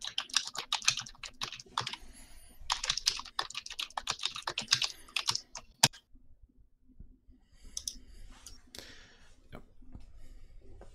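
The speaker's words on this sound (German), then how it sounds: "Wenn ihr übrigens tippt, wär cool, wenn ihr euch dann mutet, weil das ist ziemlich laut." Rapid clattering keystrokes on a computer keyboard during an online pen-and-paper role-playing session, loud and close, in dense bursts with a brief lull before the typing resumes.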